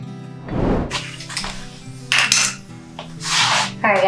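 A whisk clinks and scrapes inside a bowl while ingredients are mixed for cooking. Brisk metallic taps and rattles come in uneven bursts, close and fairly loud, with no talking.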